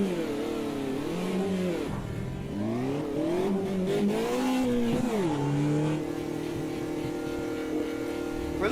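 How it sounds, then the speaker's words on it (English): A low-powered race car in the Automobilista 2 sim racing game revs and shifts through gears with a gurgly engine note, rising and falling steadily before settling into a sustained drone, loud and continuous with no talk. "For a little low-powered car, it's a lovely gurgly sounding thing"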